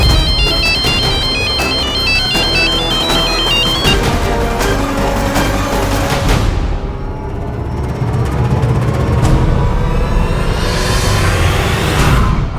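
Phone ringtone in a Hindi TV drama scene, a loud electronic melody repeating its chiming pattern for several seconds, then fading into a sustained musical background.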